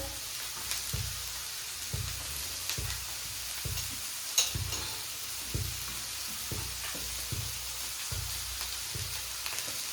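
Onions frying in a pan at home, a steady close sizzle broken by regular stirring scrapes about once a second, with no voices.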